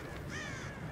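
Crows caw in Rise of the Tomb Raider, a short cluster of harsh calls rising and falling near the middle, set over a steady low ambient rumble with no talk.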